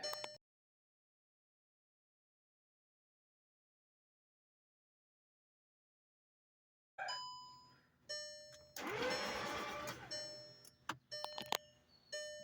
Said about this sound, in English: So with the injectors out, it's cranking over.